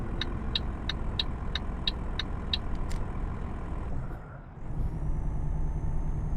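Truck engine in the Euro Truck Simulator 2 driving game, a loud steady rumbling drone with a rapid series of ticking clicks over the first three seconds, a brief dip in the noise, then the engine drone returning just as loud.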